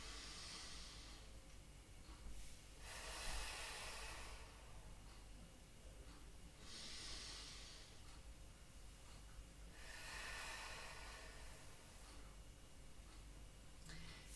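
Slow, deep breaths during a Pilates exercise for hips and lower back, each a soft airy rush a few seconds apart, faint and close.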